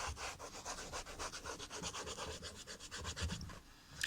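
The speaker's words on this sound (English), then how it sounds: "It sort of just picks up the dirt off the surface of the skates." A suede eraser rubs rapidly back and forth over Moxi suede roller skate boots, lifting dirt with a steady rhythmic scratchy brushing, close and continuous throughout.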